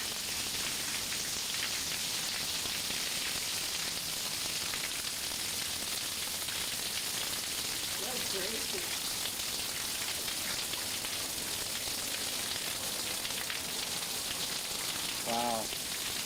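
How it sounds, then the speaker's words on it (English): Steady, dense rain hisses continuously on surfaces throughout, with brief faint voices surfacing under the downpour. "It's all a bunch of rain."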